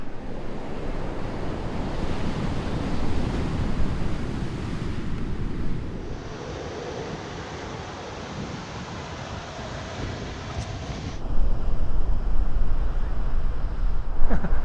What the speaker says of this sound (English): you can hear the crashing waves behind the camera